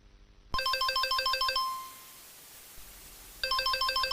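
A mobile phone rings with an incoming call: a loud, repeating electronic chime melody plays for about a second, breaks off into quiet, then begins again.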